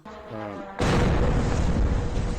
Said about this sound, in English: As you can see, there's a lot of explosions there.